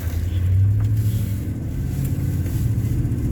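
A car fitted with a Cherry Bomb muffler drives slowly through a neighborhood, its engine giving a steady, deep exhaust rumble close by with no hard acceleration.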